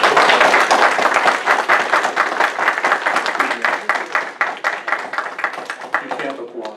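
An audience at a planning commission meeting claps together in a dense, steady burst of applause that tapers off near the end. The hall sounds close and full.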